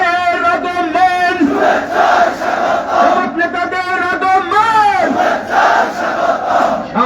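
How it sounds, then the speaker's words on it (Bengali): A large roadside rally crowd in Laksmipur chants a political slogan loudly in unison, with repeated rising and falling call-and-response phrases close by. "ওনাদের জন্য সবাই মিলে কি আমরা একটা স্লোগান ধরতে পারি?"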